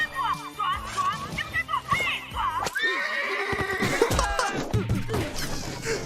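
A cartoon horse neighs amid busy cartoon soundtrack effects and voices, with whinnies and clip-clop mixed into a dense, continuous mix.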